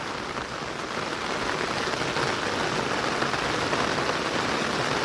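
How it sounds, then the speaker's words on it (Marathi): Heavy monsoon rain pours down in the Konkan, a loud, steady, dense rush of drops on surfaces with no break or voices. "पाऊस बघा किती पडतोय, खूपच प्रमाणाच्या बाहेर पाऊस धरला"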